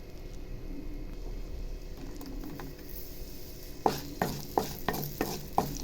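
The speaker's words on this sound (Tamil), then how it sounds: "உலர் திராட்சையை போட்டு அதையும் சேர்த்து நல்லா இதை ஃப்ரை பண்ணிடணும்" Cashews and raisins fry in butter for rava laddu, a low steady sizzle under the pan's hiss, then a run of crisp spoon taps and scrapes against the pan near the end.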